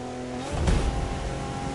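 A race car surges forward on a full nitro boost in The Crew 2 racing game, its engine roaring loud and steady with a brief swell of acceleration.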